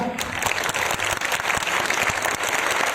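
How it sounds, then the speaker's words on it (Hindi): An audience gives loud, vigorous applause at an awards event, many hands clapping in a thick continuous wash with some sharper individual claps standing out, sustained and close. "मैं उनके लिए भी चाहूँगा कि जोरदार तालियां"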